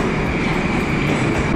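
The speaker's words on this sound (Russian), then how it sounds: "Следующий – достаточно молодой поезд «Акан»." A young Akan-type Moscow metro train in motion, giving a loud, even roar with a faint steady whine above the rumble, brief and uninterrupted.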